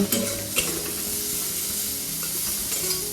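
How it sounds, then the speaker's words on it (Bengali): Bitter gourd frying in oil in a pan for a Bengali dish, with a continuous loud sizzle and a few scraping stirs at the start. "দেখো উচ্ছেটা বেশ লাল লাল করে আর কিছু কিছু হালকা হালকা ভেজেছি"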